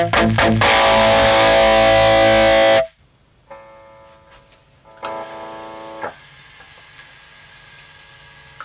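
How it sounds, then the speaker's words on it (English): Distorted electric guitar through a hot-rodded Marshall amp: a loud sustained chord rings out and cuts off, followed by quieter picked notes and a few softer single hits with a clean, clear edge. "I think this sound is based on a hot rodded Marshall"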